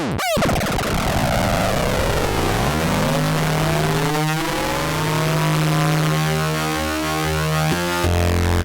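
Omnisphere 2 synthesizer tone pushed to ultra high playback speed for frequency modulation, a sustained, dense buzzing drone like an engine or propeller, with a sharp sweep at the start, a steady pitched hum mid-way and an abrupt cutoff.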